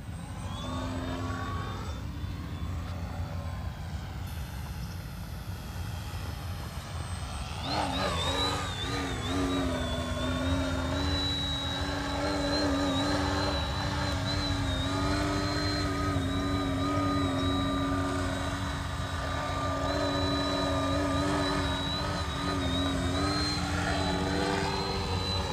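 A Mini Ugly Stick RC trainer plane with a 90 cm wingspan flies overhead, its small engine or motor whining steadily and shifting pitch as it hovers and passes, loud and continuous throughout with no talk.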